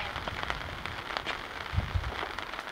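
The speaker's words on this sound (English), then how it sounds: "Now we can get out of this rain," Rain pattering outdoors beside a 1999 Ford F250 XLT Super Duty truck, a constant close hiss with a few heavier drops.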